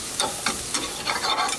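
Mushrooms sautéing in a hot pan as the heat is raised, with soft sizzling under a few quick stirring scrapes spaced about every quarter second, close and fairly loud.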